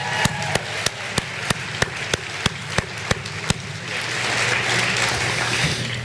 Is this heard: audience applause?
yes